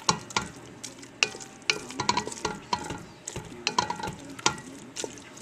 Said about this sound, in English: Mix in my ground turkey